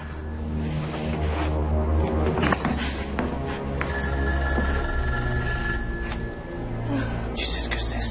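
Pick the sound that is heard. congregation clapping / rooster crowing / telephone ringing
telephone ringing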